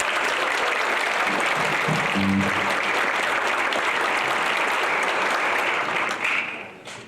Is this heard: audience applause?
yes